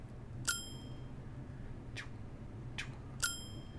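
A bright bell in a game jam video game dings several times, two clear ringing strikes with shorter clicks between, over a low background hum.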